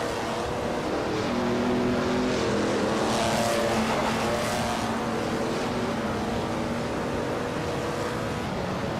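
A vintage 1938 Auto Union Type D race car in a racing video game pulls away with a loud, continuous engine roar that swells briefly mid-clip. Other cars drone along with it and nobody speaks.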